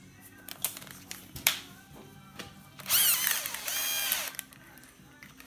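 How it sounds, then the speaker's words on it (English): Power driver running bolts into a Bolens mower deck at limited torque, several short whirring bursts with a longer sustained run of the tool, close up, amid clanking and handling noises. "screw those bolts with limited torque to make sure that I don't over tighten them"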